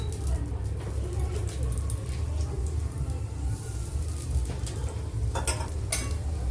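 A thick aloo paratha fries in white oil on a hot tawa, with a continuous close sizzle under low background rumble and occasional clinks of utensils near the end.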